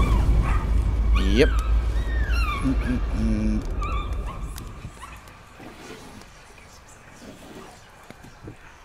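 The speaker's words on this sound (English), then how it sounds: "There's barking." Dog barking and whimpering in the horror video game Layers of Fear, sharp yips and whines early on over a low rumbling ambience, fading as a person talks briefly over it.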